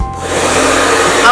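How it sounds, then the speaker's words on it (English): A hair dryer blows steadily on damp hair as styling spray is worked in, a continuous close whooshing roar that holds level throughout without any speech. "And then I blow dry"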